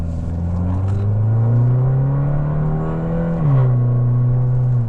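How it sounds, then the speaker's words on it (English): A 2015 Fiat 500 Abarth with no mufflers accelerates hard, its raspy exhaust rising in pitch, dipping briefly at a shift and then climbing again, loud and close with no talking. "Oh, that exhaust."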